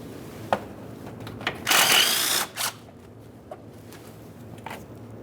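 A power tool spins off a radiator mounting bolt on a 1998–2011 Ford Ranger 2.3L, one loud close burst under a second long, followed by short ratcheting clicks and metallic handling noises.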